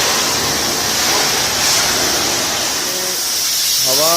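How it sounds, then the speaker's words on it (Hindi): Pressure washer blasting water onto a Royal Enfield motorcycle during a foam wash, a loud continuous hissing spray that holds steady throughout, with faint tonal traces near the end. "फिर दोबारा से पानी इसमें मार रहे हैं, ये वॉशिंग कर रहे हैं"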